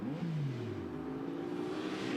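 A GT Masters race car engine at a standstill at the Red Bull Ring idles and revs briefly, its pitch dropping and then holding at a low hum, fairly quiet and unaccompanied by voices.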